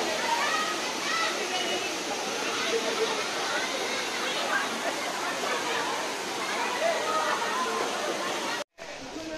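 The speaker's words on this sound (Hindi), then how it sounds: "झरने की तरह बह रहा है, पहाड़ से ही आ रहा है शायद।" Cold mountain water rushes down like a waterfall at a tourist spot near Rishikesh in Uttarakhand, a loud, steady broadband roar with a crowd chattering and playing in the background, cut by a brief dropout near the end.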